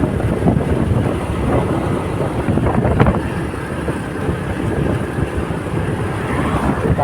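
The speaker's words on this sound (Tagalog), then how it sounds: "Mahangin mga par." Wind roars continuously past the microphone while riding a motorcycle along a road, a steady loud rushing buffet with engine rumble beneath and no speech.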